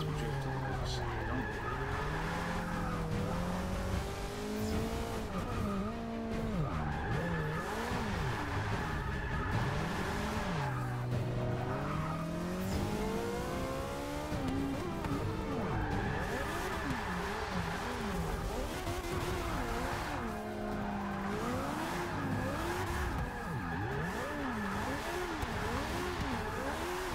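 Car drifting with tire squeal in the racing game Forza Motorsport 6, with sustained loud wavering skids and engine revving over nearly half a minute, no talking.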